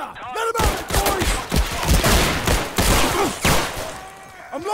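A volley of rifle and artillery gunfire in the Screaming Steel video game, set at Valenciennes Stronghold, with repeated loud cracking shots and booms in quick succession across the whole span.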